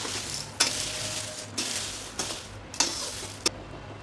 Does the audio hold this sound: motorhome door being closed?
no